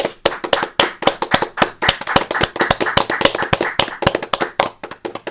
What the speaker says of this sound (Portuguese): Eu tenho que aplaudir